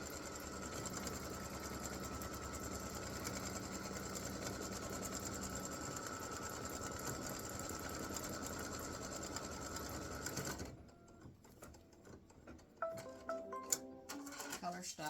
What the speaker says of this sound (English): color stop number 14 is a placement stitch for the brim of his hat